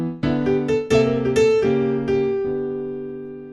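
A short bluesy piano riff played briskly, a quick run of bright chords and notes ending on a sustained, ringing chord.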